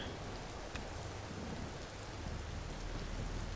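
Steady rain falls in the video game Empyrion Galactic Survival, an unbroken dense hiss with a low rumble underneath, constant and even throughout.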